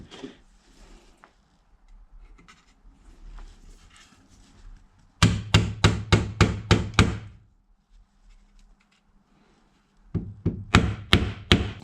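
Sharp metallic knocks from a ratchet used in place of a hammer, struck in a quick run of about eight close, loud blows, then a pause before a second burst of five or six.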